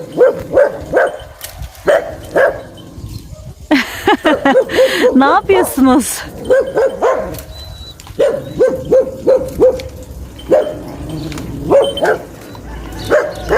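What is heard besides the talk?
hunting dogs barking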